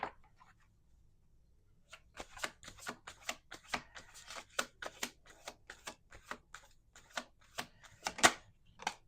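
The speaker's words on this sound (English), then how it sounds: "We're gonna do 2 more shuffles." Playing cards are shuffled by hand in a quiet room, giving a quick run of crisp riffling snaps and flutters that repeat in bursts, close and fairly soft.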